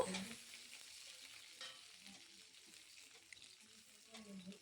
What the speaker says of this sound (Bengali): দিয়ে দিচ্ছি কোচানো পেঁয়াজ পেঁয়াজের কালার চেঞ্জ হওয়ার জন্য অপেক্ষা করব